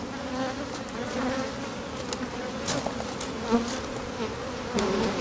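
Honey bees buzzing at an open hive, a steady close drone of many insects holding at an even level throughout.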